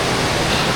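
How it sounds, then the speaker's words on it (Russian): Paltau waterfall roars as a steady, dense broadband wash of falling water, loud and continuous with no other sounds on top. "А вот сам водопад собственной персоной."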